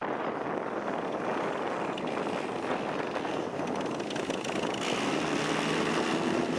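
A mini airboat's engine and propeller roar continuously on a frozen lake, loud and steady with broadband wind-like noise, no speech.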